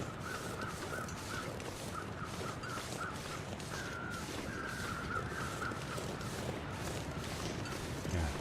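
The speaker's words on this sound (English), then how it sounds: "I'm listening for where the crows are." Crows caw repeatedly in a snowy wilderness of the survival game The Long Dark, a series of harsh calls at moderate distance over a steady wind-like ambient bed, with no talking.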